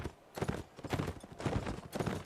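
Rhythmic hoofbeats of hussar cavalry horses galloping in the video game Mount & Blade: Napoleonic Wars pound in quick repeated bursts, fairly close and steady, with no voices.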